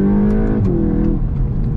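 A 2021 VW Mk8 Golf GTI Clubsport with a 2-litre turbo engine of 300 PS, heard from inside on overrun: a loud, steady engine drone with a falling pitch and faint crackles over it.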